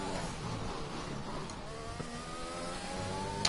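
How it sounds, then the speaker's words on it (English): Formula V race car engine in a racing video game, a steady mid-pitched whine with rising and falling revs as the car downshifts, heard at a low level with no talk. "Downshifting instead of braking."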